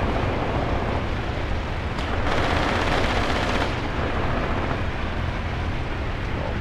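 Sustained 2 cm autocannon fire in the video game Graviteam Panzer Shock, a dense continuous rattle of rapid shots with booming low rumble throughout.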